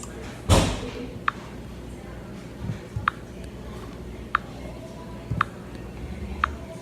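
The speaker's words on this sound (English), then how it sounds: "listen, shut the front door" A front door being shut indoors, heard as a loud low thud near the start followed by a few fainter knocks and sharp taps, with quiet room noise and voices around it.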